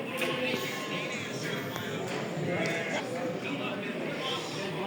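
Sheep and lambs bleat at a busy Turkish holiday livestock market. Their calls come through a constant murmur of people talking and crowd noise.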